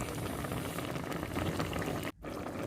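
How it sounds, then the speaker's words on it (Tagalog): A pot of dinuguan, a Filipino pork blood stew, bubbles and simmers steadily up close, a continuous wet boiling texture with a brief dropout near the end. "Ayan na po, kumukulo na."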